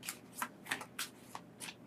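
A deck of tarot cards is shuffled by hand in a quick run of about six crisp riffling bursts, close and clear with short pauses between them.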